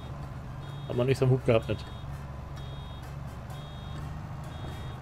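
An automated milk truck reversing in Farming Simulator 22, giving a steady series of faint, evenly spaced high beeps throughout over a low engine hum, with someone talking briefly near the start.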